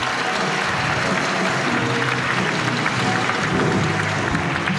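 Applause at a French theatre season presentation, a continuous, dense wash of clapping from a large audience that holds at an even level throughout.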